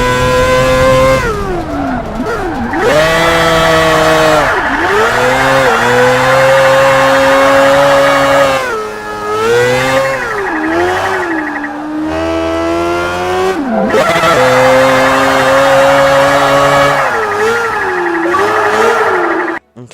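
Nissan 240SX drifting in a racing video game, a loud continuous engine held at high revs that rises and dips with throttle, with long tire squeals and skidding running throughout, no talking.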